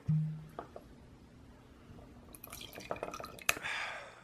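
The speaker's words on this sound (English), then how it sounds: "Pour up that glass for me real quick." Liquid is poured into a glass, heard as a few faint clinks and drips, then a short splashing pour near the end, quiet and close.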